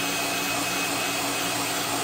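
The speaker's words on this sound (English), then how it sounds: "So let me grab my dryer here real quick." A handheld dryer blows air to dry water-based paint on a custom-painted crankbait lure, a steady close whirring roar that stays constant throughout with no voices.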